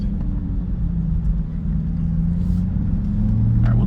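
A Chevrolet C8 Corvette E-Ray fitted with an AWE Track exhaust idles and revs close up, giving a loud, deep, continuous burbling rumble that rises slightly toward the end.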